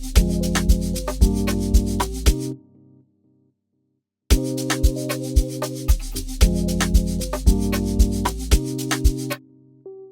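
A Serum synthesizer lead preset in a deep amapiano beat plays a rhythmic, punchy pattern with steady hits. It stops for about two seconds of silence, then the phrase repeats loud and alone with no talking.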